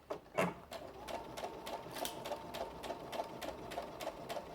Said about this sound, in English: And just sew it all the way down.